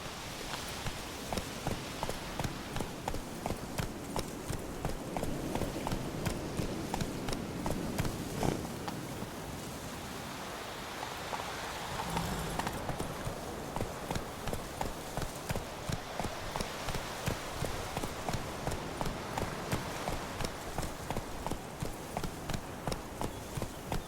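Steady rhythmic clip-clop of the horse Roach galloping in The Witcher 3, hooves pounding continuously and close for the whole stretch, with ambient game noise and no speech.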